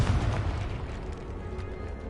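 A Confringo spell explosion in the Hogwarts Legacy video game lands as a single low, booming burst that fades into a rumbling tail.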